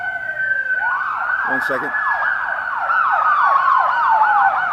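An ambulance or police car siren wails past in a rising and falling sweep, loud and close, with a brief spoken remark partway through.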